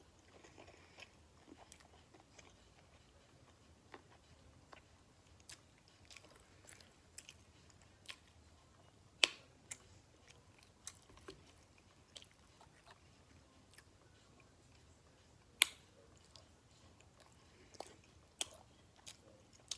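Quiet chewing of sushi eaten by hand, with soft crunchy bites and small wet squishes scattered irregularly across a near, faint, otherwise silent background.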